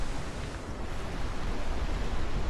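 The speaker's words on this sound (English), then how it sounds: "Windy, but that's what you get whenever you camp at this time of the year." Steady wind rushes and roars across an open wild camping spot in cold-season weather, a continuous broadband buffeting close to the microphone with no voices.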